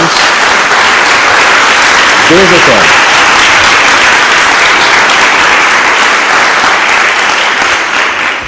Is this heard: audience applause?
yes